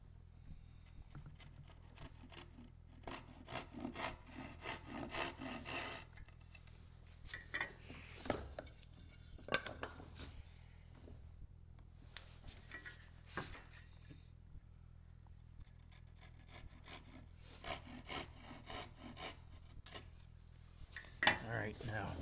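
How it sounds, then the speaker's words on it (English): Hand crosscut saw cutting through a wooden board in a woodworking shop, steady rasping strokes in rhythmic bursts, close and moderately quiet, with pauses between sets of strokes and a sharper knock near the end. "Grab my crosscut saw."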